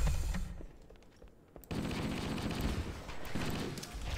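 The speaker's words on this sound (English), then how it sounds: "I'm gonna use a plasma pistol, see if I can hit these guys" Plasma pistol shots in Halo: Combat Evolved, a dense, loud run of rapid energy-weapon bursts crackling over busy game action, after a brief quieter gap near the start.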